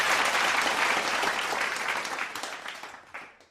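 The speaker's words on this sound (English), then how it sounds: "Please, let's give him a virtual applause" Virtual applause for a lecturer: a dense wash of clapping, loud at first, thinning and fading over a few seconds with a few last scattered claps near the end.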